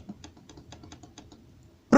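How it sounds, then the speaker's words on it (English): Rapid computer keyboard and mouse clicks during an online Yu-Gi-Oh card game duel, a quick close patter of light taps ending in one louder sharp click. "Pardon the clicking, clickety clack."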